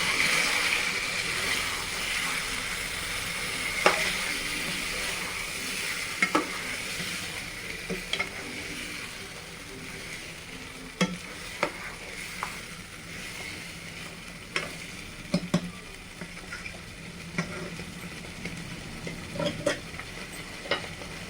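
Village-style chicken frying with raw masala gives a steady, moderately loud sizzle that lasts throughout, punctuated by intermittent clicks and scrapes of a stirring spoon against the pan, with no speech.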